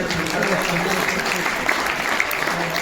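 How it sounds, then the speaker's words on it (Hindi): An audience at a Hindi comic poetry gathering (kavi sammelan) in a Jodhpur hotel gives steady, dense applause throughout. The clapping is loud and continuous, and a voice is heard faintly underneath. "एक बार तालियां बजाइए, देखिए बड़े सुंदर।"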